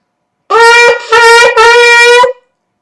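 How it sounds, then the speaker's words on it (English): A shofar blown in the truah call of the Torah tradition: three loud, bright, close blasts, each broken into rapid pulsing staccato bursts, with brief gaps between them and no voices. "So the truah sounds like this."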